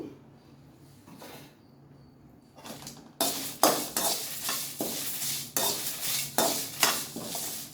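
Dried red chillies fry in oil on medium flame for a pulihora tempering. After a quiet start, a spoon scrapes the pan in a regular rhythm of strokes over a close, crackling sizzle.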